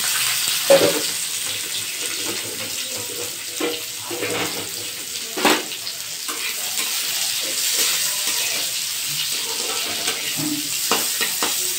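Mango pieces hitting hot oil seasoned with five-spice and dried chili, a steady sizzle broken by sharp clatters and stirring scrapes in the pan, close and fairly loud.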